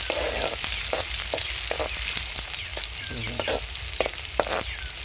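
Onion and green chili stirred in hot oil for kanda pohe, a continuous close sizzle with repeated scraping strokes of a spoon against the pan.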